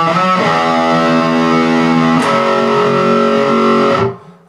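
Heavily distorted electric guitar plays a riff, a dense, loud, sustained wall of chugging chords that shifts once midway and then cuts off sharply near the end, played alone.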